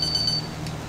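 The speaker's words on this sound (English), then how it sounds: "Great timing on the alarm" A flight-simulator cockpit alarm in X-Plane 11 sounds as a rapid, steady electronic pulse for under half a second, then cuts off, leaving the low cockpit hum.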